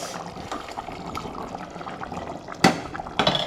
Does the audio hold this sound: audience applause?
no